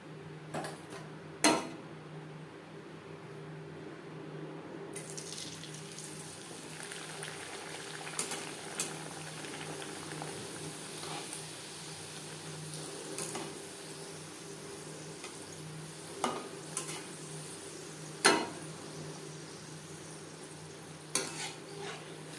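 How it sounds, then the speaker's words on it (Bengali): Chana dal kachori deep-fry in hot oil until crisp, giving a continuous soft bubbling sizzle, with occasional sharp clinks and taps of a utensil against the pan over the steady frying hiss. "উল্টো পাল্টে ক্রিস্পি করে ভেজে নেব"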